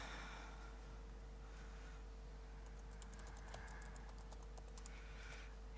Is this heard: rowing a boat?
no